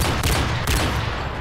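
Loud rapid-fire shooting in Call of Duty: Modern Warfare 3, a dense burst of close gunshots filling the short moment with no one talking.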